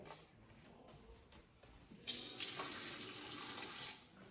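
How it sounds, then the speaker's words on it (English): Water runs from a tap into a cooking pot in a home kitchen, starting with faint trickles and then a loud, steady gush for about two seconds before it stops abruptly. "So you guys, now I'll be putting in some water."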